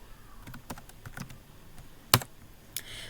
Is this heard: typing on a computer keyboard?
yes